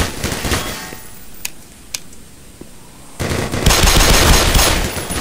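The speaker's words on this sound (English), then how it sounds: "We're shooting things!" Gunfire from the video game Black Mesa: loud sustained automatic shooting opens the clip, a quieter stretch follows with a few single shots, then heavy continuous fire returns, close and dominant.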